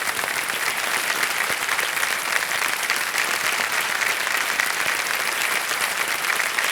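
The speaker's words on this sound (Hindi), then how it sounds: "तालियां बज जाएं इनके लिए।" A studio audience at the Kaun Banega Crorepati quiz show applauds, a dense, steady wash of clapping hands that stays loud and even throughout.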